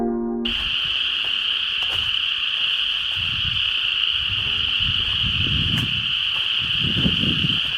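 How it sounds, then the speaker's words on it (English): Frogs croaking in an Okefenokee Swamp marsh, a dense continuous high chorus with lower croaking pulses rising and falling beneath it, heard at a distance with no talk. "It's a frog marsh."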